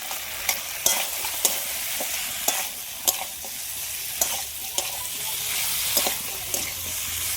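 Fried fish head being sautéed with potato and eggplant in a pan for a bottle gourd stem ghonto: steady sizzle under sharp, regular spatula scrapes and knocks roughly every half second, close and clear, no talk.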